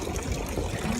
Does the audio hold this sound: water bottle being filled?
yes